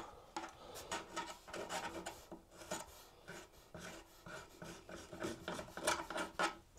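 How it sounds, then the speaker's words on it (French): Quick back-and-forth rasping strokes of a hand file on wood while finishing a wardrobe closet build, steady, close and fairly quiet with no talking. "j'allais chercher une lime pour finir comme il faut"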